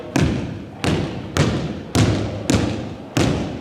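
A basketball dribbled slowly on a gym floor during a youth training drill around a cone, six loud, evenly spaced thumps about half a second apart, close by.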